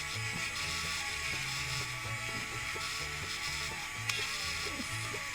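A rotary tool grinds rust off a thin metal doll eye rod while the rod is turned bit by bit, a steady close whirring hum with small mechanical ticks and one sharp click, no talk.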